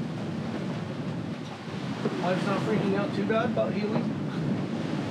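On a sailboat heading to Dominica, roughly 20 knots of wind buffet the microphone while waves rush along the hull in a steady, close roar, and someone talks over it partway through.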